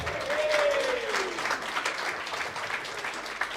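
Audience applause at a political meeting, a steady wash of many hands clapping close and loud, with a brief whistling tone early on and the clapping sustained throughout.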